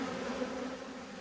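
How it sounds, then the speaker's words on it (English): A swarm of honeybees buzzes in the air during a hive inspection, a dense, steady drone of many wings close around, with no talking. "There's a lot of bees in the air, as you can probably tell by the sound."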